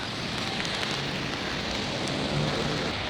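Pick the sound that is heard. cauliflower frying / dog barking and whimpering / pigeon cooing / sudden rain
sudden rain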